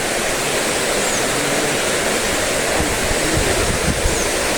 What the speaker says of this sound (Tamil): ஃபைனலாக இதுதான் தீர்த்தப்பாறை அருவி.